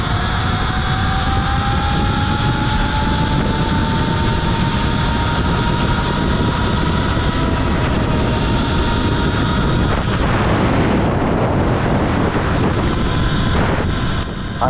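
Talaria MX4 electric dirt bike ridden at full throttle in a top speed run, a steady rising electric motor whine with tonal lines under heavy, constant wind rush, loud and close throughout.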